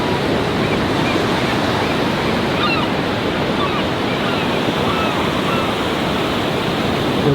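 Ocean waves rolling onto a rocky West Coast shore near Thor's Well: a loud, steady roar of surf, close and unbroken, mixed with gusting wind buffeting the microphone.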